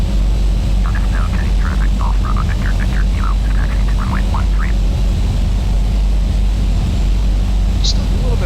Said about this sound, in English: let our engine stabilize at this time.